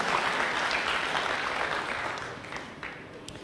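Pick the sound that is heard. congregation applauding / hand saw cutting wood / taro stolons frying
congregation applauding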